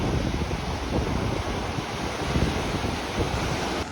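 Continuous surf and wind rumble during rough sea, waves washing onto the shore with a steady roar and occasional swells, no voices.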